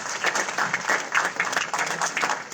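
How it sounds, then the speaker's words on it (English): An audience at an HR and ESG symposium panel claps to welcome a speaker onto the stage: a lively round of many hands, close and even, with a few sharper individual claps standing out. "Please give a big round of applause for the panel."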